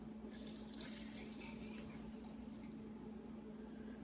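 Water pours steadily onto rolled oats to make homemade oat milk, a soft continuous trickle and splash that stays quiet and even throughout.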